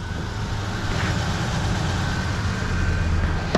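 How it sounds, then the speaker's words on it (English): The 4-liter engine of a 2000 Ford Ranger 4x4 Sport extended cab idles steadily and smoothly, a close, even low rumble with no talk over it. "this thing's idling just smooth as can be. No shaking, no belt squeal"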